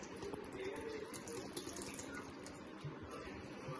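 Water is poured into a grinder jar holding soaked rice for dosa batter, a steady running, gushing pour that continues throughout at a moderate level, with no talk.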